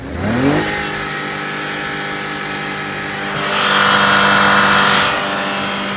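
1996 BMW 750iL V12 engine revving: a quick rise in pitch, a steady high idle, then a second smooth rev that swells and drops back, close and clear with no talking.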